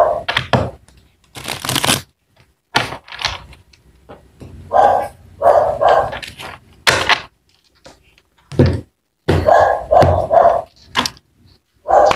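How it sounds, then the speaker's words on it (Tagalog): A dog barks in short, loud bursts with irregular pauses, close to the listener, with some rustling between barks. "pasensya na sa ingay ng aso ko"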